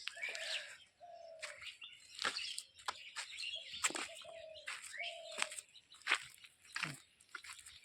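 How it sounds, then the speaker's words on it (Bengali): Birds chirp and twitter on a morning walk outdoors, with repeated short whistled notes and quick tweets overlapping at close to moderate distance throughout, fairly clear above a quiet background. "সকালবেলা সুন্দর পাখির কিচিরমিচির আওয়াজ শোনা যাচ্ছে।"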